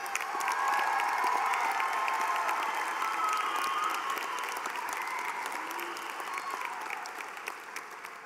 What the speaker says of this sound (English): Give yourselves one more round of applause, the newest alumni of uoit.